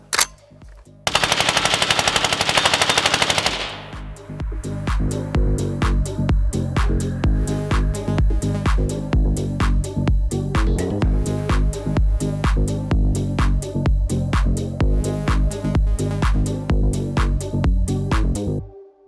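Swiss SIG 551-2 LB SWAT rifle with a BEO suppressor fires a short burst, then a long rapid string of suppressed shots in steady, loud succession, close by.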